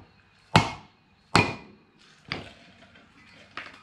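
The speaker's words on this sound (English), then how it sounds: "we're just gonna give this a bit of a hit around here with the dead blow hammer" A dead blow hammer strikes a brake rotor on an FJ40 Landcruiser front hub four times, sharp close thuds in an uneven rhythm, the last two softer.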